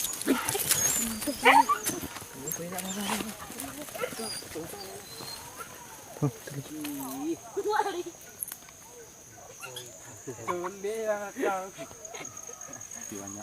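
Hunting dogs on a boar hunt bark, yelp and whimper in quick, overlapping bursts at close range, with people talking among and over them throughout.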